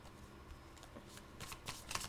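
A deck of tarot cards being shuffled for a new spread: soft, quiet riffling and flicking bursts that grow denser toward the end, close by and alone.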